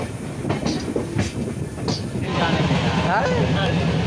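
Interior of a moving passenger train on a long-distance run toward the Nepal border, with a steady rumble and rhythmic clickety-clack of wheels growing louder and more constant in the second half, under faint background voices.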